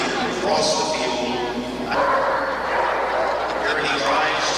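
A German Shepherd barks and yips in short bursts during a courage test at a breed show field, with an agitator nearby, under a voice talking through most of it.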